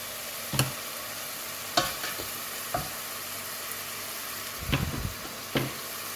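Meat browns in a pan for Algerian berkoukes, a constant sizzle with a few louder stirring scrapes and clinks spaced through it and no talk.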